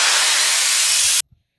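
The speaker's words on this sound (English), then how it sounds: "White noise is actually kind of cool with this." A steady burst of bright, full-band white noise hisses loudly for just over a second, then cuts off abruptly into near silence.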